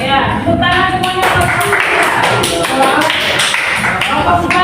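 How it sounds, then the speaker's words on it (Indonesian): A school class claps together after a group finishes presenting, a brisk burst of close, uneven hand claps with a voice talking over the middle. "Ya, tepuk tangan semuanya."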